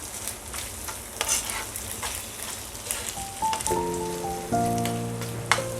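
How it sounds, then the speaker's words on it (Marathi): Vinegar being stirred into Schezwan chutney in a pan gives a continuous wet sizzle with spoon scrapes, and a few short tones chime in near the end. "विनेगर व्यवस्थित एकत्र करून घेऊया आपण"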